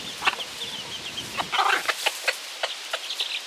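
Hen clucking and chattering at other chickens while holding a food scrap in her beak, quick close calls in short bursts.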